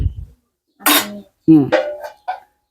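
A metal lid clanks down onto a pot of freshly cooked fish curry in a home kitchen, giving a couple of bright clinks and rattles, with someone talking around the knocks.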